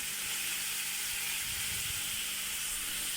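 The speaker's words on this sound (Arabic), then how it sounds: "نقف عليه شوية حتى نحمس اللحم" Bone-in lamb pieces with fat and tail fat sear in a pot, giving a steady, close, broad sizzle and hiss throughout with no voices.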